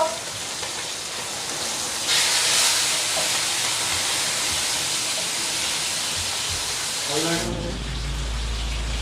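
Tilapia frying in a pan over a strong flame, a steady loud sizzling hiss that swells briefly and runs throughout, with a dull clatter near the end.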